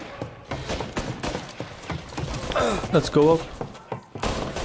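Gunfire during a shootout in the Mafia Definitive Edition video game, a series of sharp, irregular shots and thuds heard up close. Characters talk and shout over the shots, and one voice speaks loudly in the middle.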